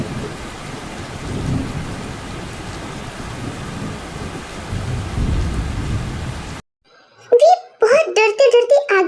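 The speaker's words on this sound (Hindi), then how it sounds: "बहुत जोरों की बारिश भी शुरू हो जाती है" Heavy rain pours with thunder rumbling, a dense, loud downpour lasting several seconds before cutting off abruptly, followed by a voice speaking.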